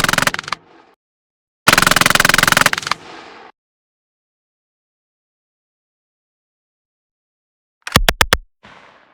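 Heavily distorted weapon sound layers from a BOOM Library pack for Apex Legends: a short burst, a dense two-second roaring blast with a tail, then a quick stutter of sharp rapid shots, each separated by silence.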